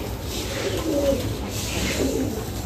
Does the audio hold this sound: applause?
no